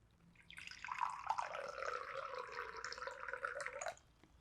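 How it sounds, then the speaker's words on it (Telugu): Water pours into a glass in one continuous, quiet stream lasting about three seconds, starting and stopping cleanly. "వాటర్ని తీసుకుని ప్రజెంట్ కరెంట్ రియాలిటీని ఫీల్ అవుతూ వాటర్ని గ్లాస్లో వేయాలి"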